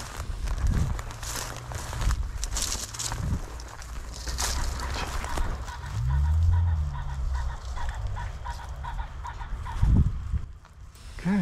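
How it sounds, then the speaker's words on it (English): A rooster pheasant cackles from a distance up a hill on public hunting land, a couple of short harsh bursts over wind and rustling noise. "just heard a rooster cackling up that hill"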